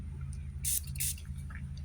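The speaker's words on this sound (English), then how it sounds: "And then I spray it with accelerator." Two short hissing bursts of CA glue accelerator sprayed onto a small chain ornament, close and fairly soft, over a steady low electrical hum.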